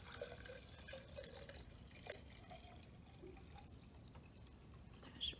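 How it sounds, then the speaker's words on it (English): Water poured into a container, a faint, steady liquid trickle at close range that runs for several seconds in a quiet room with no talking. "the first thing we're gonna do is pour our container with some water"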